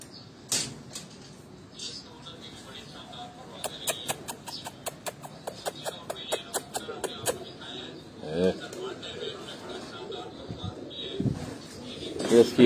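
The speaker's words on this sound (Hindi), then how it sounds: "ये गोल्डन कबूतर है" A golden-breed pigeon with khaki plumage gives soft cooing and fluttery calls. A rapid run of sharp clicks and taps comes in the middle, with scattered rustling near and moderately loud.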